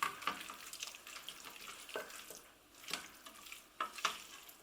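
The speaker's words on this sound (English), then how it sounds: "I'm going to add the orzo. Give it a good stir." Orzo is stirred into a pesto vegetable mix in a pan, giving soft, irregular scraping strokes over a faint background sizzle, with no talking.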